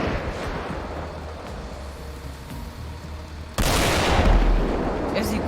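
Tank cannon in GTA 5 Online firing once, a sudden loud boom that cuts in after a stretch of rumbling ambient noise and rings on for a couple of seconds.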